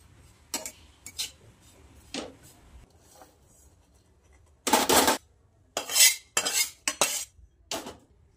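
A spoon scrapes and stirs grated coconut as it dry-roasts in a pan over low heat, giving close, intermittent scraping bursts with short pauses between strokes.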